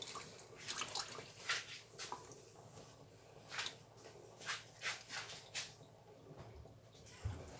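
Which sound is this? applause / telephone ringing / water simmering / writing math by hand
water simmering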